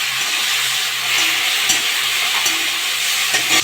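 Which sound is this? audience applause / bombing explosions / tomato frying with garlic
tomato frying with garlic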